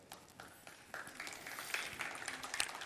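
Faint applause for President Zaia at the Festival del Futuro 2021 opening, starting with sparse scattered claps and building into a fuller, louder patter of hands toward the end.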